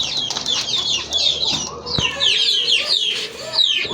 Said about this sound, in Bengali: এই যে দেখেন এক জোড়া কোকা কবুতর